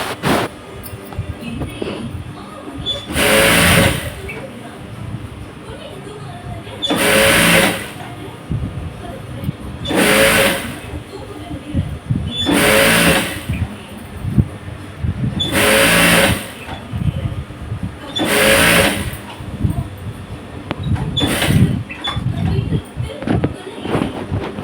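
A sewing machine stitching a fabric hem runs in about seven loud, evenly spaced bursts of a few seconds each, separated by quieter pauses with someone speaking Tamil in between.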